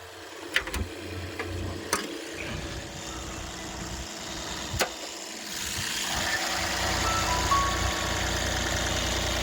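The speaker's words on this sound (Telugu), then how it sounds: "పెట్రోల్ బండి సౌండ్ వచ్చినట్టు వస్తుందండి" A petrol motorbike engine idles steadily with a low, even putter, a few clicks and knocks early on, the hum growing slightly fuller toward the end.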